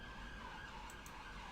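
Emergency sirens in the Cities: Skylines city-building game wail steadily in a brief burst of continuous, dense sound with a faint high chirp, heard alone without voices.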